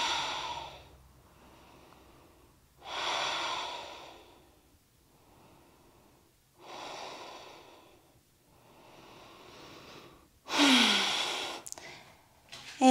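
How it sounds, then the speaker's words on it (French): Slow, deep breaths during a yoga session, several long inhales and exhales in a calm rhythm with quiet gaps between them, close and soft, followed by a brief louder rustle near the end. "Quelques belles respirations."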